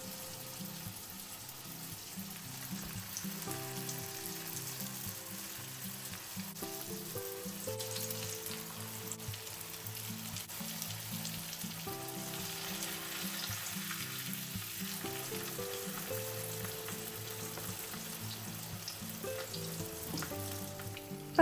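Vegetable spring rolls fry in sunflower oil over medium heat in a pan, giving a steady, even sizzle that runs throughout beneath background music.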